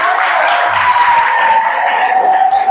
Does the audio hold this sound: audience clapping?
yes